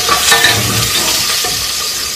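Garlic and onions frying and being stirred in hot oil in a village kitchen, a steady close sizzle with a few scraping stir strokes and no talking.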